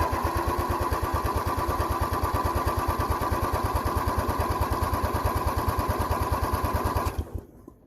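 Craftsman LTX1000 lawn tractor engine cranking on its starter, a fast, even chugging pulse, close and steady for about seven seconds before stopping abruptly without firing.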